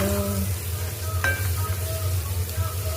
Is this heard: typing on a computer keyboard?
no